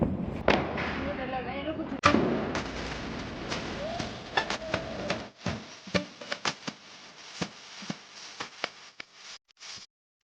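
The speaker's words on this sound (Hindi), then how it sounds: "अब ये जलाएगी फुलझड़ी" Diwali firecrackers and sparklers being lit at home, with sharp pops and cracks scattered across the scene, some near and loud, others fainter, amid talking voices early on and then sparser isolated bangs.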